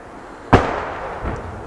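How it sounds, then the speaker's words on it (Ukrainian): A single sharp boom from an enemy tank firing about 1.5 km away on a battlefield, followed by a softer, distant thud a moment later, heard alone over low background noise. "Він зараз стріляє приблизно, мабуть, ну, кілометра півтора від нас."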